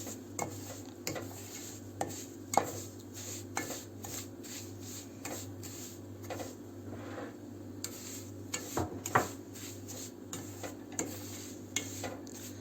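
A spoon stirring semolina in a pan for milk halva, scraping and clinking against the metal in a steady, repeated rhythm, close and fairly quiet over a constant low background hum.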